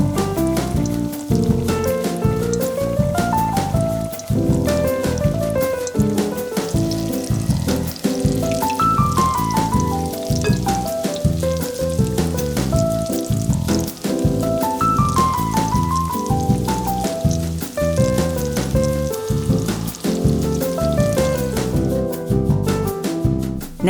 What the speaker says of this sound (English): continue frying as many fritters as you can get out of your dough